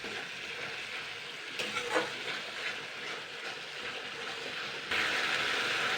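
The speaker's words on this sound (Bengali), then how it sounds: "জল দিয়েও আমি আরও 2-3 মিনিট কষিয়ে নেব" Bengali spice paste frying and being stirred for a sea fish curry, a soft continuous sizzle at moderate distance with faint scraping strokes, then a brighter, louder hiss for the last second.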